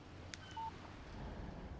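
A short electronic text message alert rings from a phone in the Alan Wake Remastered video game, a couple of brief tonal beeps standing out against a quiet background.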